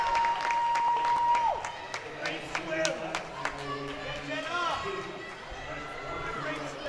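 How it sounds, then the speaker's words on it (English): A crowd cheers and claps with excitement at a college swimming dual meet at Richmond, loud and continuous around a finishing senior swimmer, with an announcer's voice over it and a brief whistle-like tone at the start. "You can hear the crowd cheering her on with a lot of excitement."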